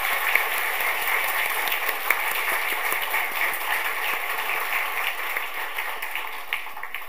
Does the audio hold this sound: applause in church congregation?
yes